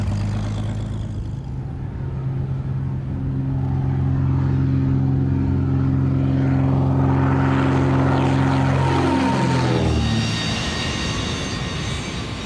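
A light propeller aeroplane working a family property passes close by, its engine drone rising to a loud peak and then falling in pitch as it moves away, with no voices.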